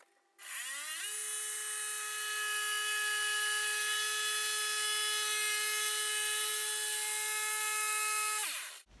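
A power tool whines up to a steady high-pitched speed and holds there for about eight seconds before spinning down, cutting a wooden bar top sheet for a four-tap keezer build; loud and close, with no talk.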